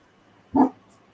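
A single dog bark, sharp and fairly close, sounding once in an otherwise quiet room just as a door is about to be closed.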